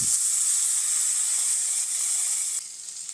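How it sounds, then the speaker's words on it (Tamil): Tomatoes added to onions frying in a pan, a loud steady hiss of sizzling oil that drops off near the end, with no talking. "வெங்காயம் நல்லா பொன்னிறமாக வதங்கிடுச்சு. தக்காளியை சேர்த்துக்கிடுவோம்."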